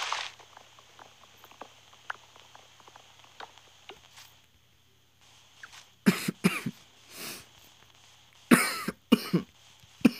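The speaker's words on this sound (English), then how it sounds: "I'm sorry if y'all hear me coughing." A sick young man coughs several times, loud and close, in short clustered bursts after a stretch of quiet low room noise.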